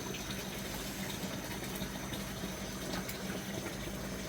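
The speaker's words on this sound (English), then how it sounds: "it fills up just to get rid of all the chlorine" Water pours steadily into a fish tank during a water change, a continuous broadband rushing and bubbling that stays even in level throughout.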